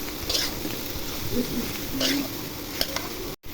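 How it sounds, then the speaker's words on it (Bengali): Pieces of pointed gourd are stirred in a frying pan, with soft scraping and a light sizzle coming in short bursts, close by and fairly quiet. "এখন পটলগুলো ঢেলে দিব, নেড়ে চেড়ে দিব"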